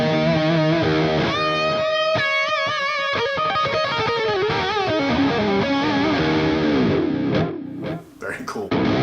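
Electric guitar on the bridge pickup driven through distortion, played in ringing chords and bends that grow rough and noisy, loud and close, with a brief dip near the end.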